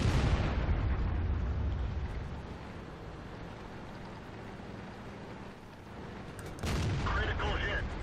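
A World of Tanks SU-100 tank destroyer fires its main gun at an enemy tank: a loud, heavy blast rolls into a long rumbling decay, then a second sharp report booms near the end.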